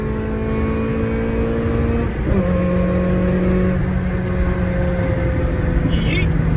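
A car engine drones steadily at about 40 mph, its pitch dropping abruptly partway through as it goes past, then holding a lower hum.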